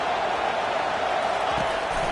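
A football stadium crowd at an Oregon at Oklahoma game makes a steady, loud roar that fills the whole clip, a dense wash of distant voices with no single sound standing out.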